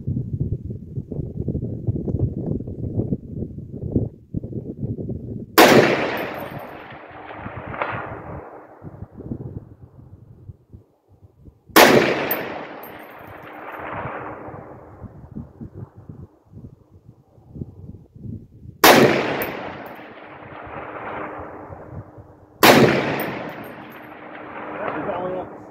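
Four loud, sharp SCAR 17S rifle shots fired at steel targets 550 yards away, spaced several seconds apart, each cracking out and then rolling off into a long decaying echo over a quieter outdoor background.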